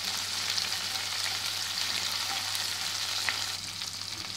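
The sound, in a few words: cashews frying in oil with spices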